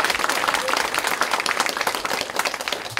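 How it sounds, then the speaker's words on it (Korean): Sustained, dense applause from a large audience at a political party workshop, steady and loud throughout with many hands clapping at once. "힘찬 감사의 박수 부탁드리겠습니다."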